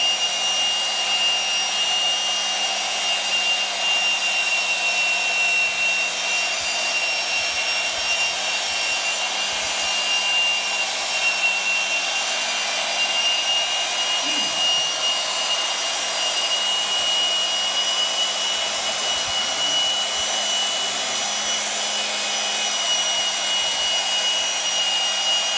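A RIDGID 700 power drive threads pipe with plenty of cutting oil, a loud continuous grinding whir with a steady hum and rasping texture throughout, with no voices.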